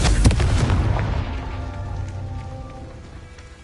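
Confringo spell explosion in the Hogwarts Legacy video game, a single loud boom at the start that decays into a crackling, rain-like tail over a few seconds.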